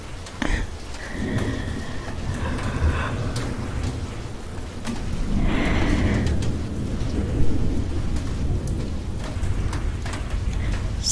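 Steady rain pours down with low rumbles of thunder rolling through, heavy and continuous with a few sharper cracks.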